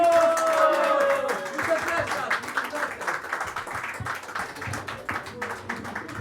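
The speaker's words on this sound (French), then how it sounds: "On applaudit très fort Rico qui nous quitte." Audience clapping at a slam poetry tournament in Antibes, a moderate burst of applause that tapers off while a host speaks over it.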